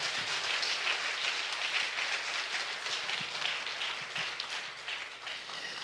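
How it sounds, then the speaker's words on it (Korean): A church congregation applauds during a live Hosanna Church service, with dense, steady clapping that fills the hall close and loud from start to finish, no voices heard over it. "박수 한번 부탁드리겠습니다"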